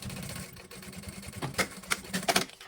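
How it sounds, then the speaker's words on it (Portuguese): A sewing machine stitches through fabric and plastic while a roll-up cosmetic pouch is made, with short rapid bursts of stitching near the end after a low, quiet start. "E a gente vai costurar até o final do plásticozinho, tá?"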